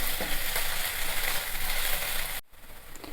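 Onion, ginger and garlic fry in a pan, making a dense continuous sizzle with faint stirring scrapes, up close, until a sudden cut to a quieter, thinner sizzle.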